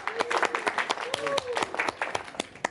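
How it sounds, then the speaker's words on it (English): A small Toastmasters audience claps steadily in a patter of applause while someone talks over it. "Let's give her a round of applause."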